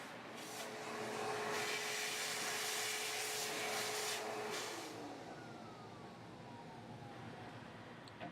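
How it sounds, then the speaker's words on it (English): A vacuum cleaner sucks debris out of a unit's separator area, a faint, steady airy whir with a scraping rub partway through, quiet and alone without talk. "Vacuum off any debris you see in this area."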